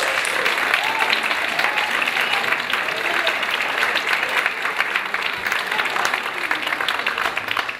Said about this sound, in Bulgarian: Искам сега едни много бурни аплодисменти за Атанас Ловчев.